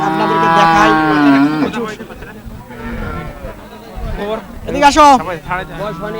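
Cattle at a livestock market moo loudly and close with long drawn-out calls, one near the start and another around the fifth second. Market chatter and voices run underneath.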